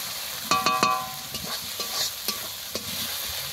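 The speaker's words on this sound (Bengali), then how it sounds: "মশলাটা ভালো করে কষিয়ে নেব" Spice paste with chili powder sautéing in oil in a pan for an egg curry, a soft steady sizzle under sharp scraping strokes of a spoon against the pan, close and without talk.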